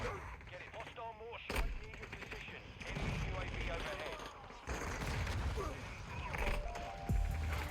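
Dual-wielded pistol gunfire in a video game, cracking in scattered bursts among other game noise and effects, fairly loud and close.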